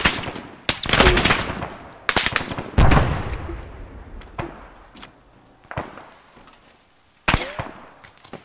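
Heavy gunfire in a video game combat patrol on the island of Tanoa: loud, close bursts of rifle and machine-gun fire in uneven clusters, with sharp single shots and short quieter gaps between them.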